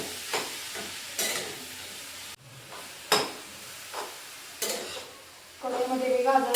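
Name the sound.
grated carrot being stirred and sautéed in a wok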